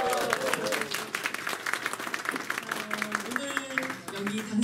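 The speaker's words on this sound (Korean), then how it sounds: "우리가 한번 힘차게 박수 한번 쳤으면 좋겠습니다" An audience at a Seoul party labor committee celebration claps steadily and energetically, dense applause filling the room while a speaker's voice carries over it.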